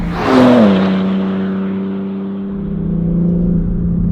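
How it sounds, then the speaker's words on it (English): Synthetic engine sound piped into the cabin of a BMW M3 Competition G80, a loud steady droning hum that swells briefly as revs rise, then settles into a sustained even tone. "The other thing is fake engine sound that's piped around the cabin, and you've been listening to it most of the time throughout this video so far"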